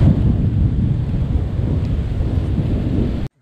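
Sudden outdoor thunderstorm with hail, a loud dense rumbling roar of rain, hail and wind close to the microphone, cutting off abruptly near the end.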